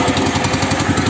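A small ride-on lawn tractor mower engine runs close by at a low, throbbing idle, its steady rumble filling the short stretch as it is throttled down before shutdown.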